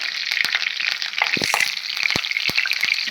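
Curry leaves sizzle in hot oil in a pan for a green chicken fry, a loud, steady frying hiss with crackles and a few sharp pops spattering through it.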